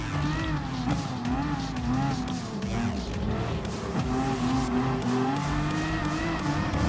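Race cars in Gran Turismo Sport, including a Mitsubishi Lancer and a Toyota FT1 Vision Gran Turismo Group 3, roar with steady high-revving engines while tyres squeal and skid throughout, loud and close.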